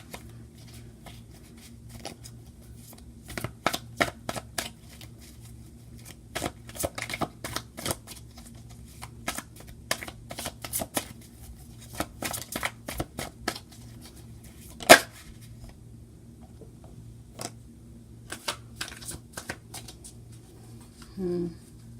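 Tarot cards are shuffled in scattered bursts of riffling and light tapping, close but fairly quiet, with a low steady hum and a voice talking at times.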